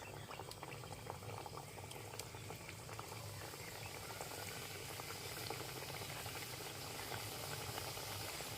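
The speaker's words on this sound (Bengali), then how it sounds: "সাদা তেল দিয়ে দিয়েছি এবার ফ্রাই করে নেবো" Khari biscuit pastry squares deep-fry in white oil over medium-low heat, giving a dense, continuous bubbling hiss with scattered small crackles that stays steady and close throughout, with no voice over it.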